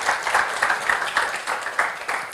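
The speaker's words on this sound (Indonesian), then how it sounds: "Tepuk tangan sekarang boleh" Scattered clapping from a youth church service congregation, moderately loud with uneven bursts of hand claps rising and falling across the short stretch.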